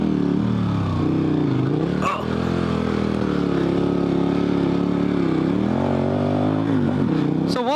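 A dual sport motorcycle on 50/50 tires with cutouts revs hard through deep sand during a U-turn, its engine droning loud and close with rising and falling pitch and a scraping clatter midway.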